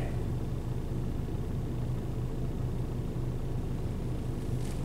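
A Dodge Neon with a transmission fault that won't shift, its engine running at a steady low idle, a constant near rumble with no change in pitch and no talk.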